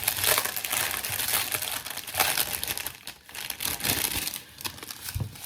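A plastic packet of special diamond art rhinestones is crinkled and torn open close by, giving dense, uneven crackling and rustling bursts that continue throughout with brief pauses.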